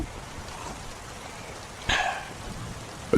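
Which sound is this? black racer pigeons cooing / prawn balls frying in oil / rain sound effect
rain sound effect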